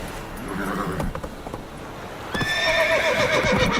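A horse in The Witcher 3 neighs loudly and shrilly over rapid galloping clip-clop hoofbeats, the hooves thudding in uneven rhythm before the long whinny rises on top near the close.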